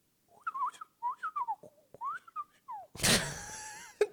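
A man whistles a short wavering tune in quick birdlike phrases, close and clear, followed by a burst of breathy noise and a sharp click at the end.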